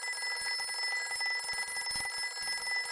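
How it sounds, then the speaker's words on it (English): A telephone rings in the Windows 3.1 game Tales of The Wild Zeep, a continuous shrill electronic ringing with a faint rapid pulse that runs steadily through the whole stretch with nothing else over it. "It was the Wild Zeep's great aunt Zelda, once removed, calling from Alaska"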